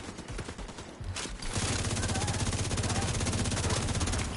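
Rapid automatic gunfire erupts in a shooter video game, a dense, loud stream of repeated shots starting after a second of quieter combat noise and continuing steadily to the end.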